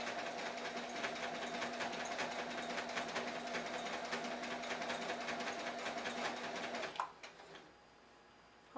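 A sewing machine runs a steady, fast decorative stitch along the edge of a T-shirt pillow, loud and continuous for about seven seconds before it stops and leaves a quiet room.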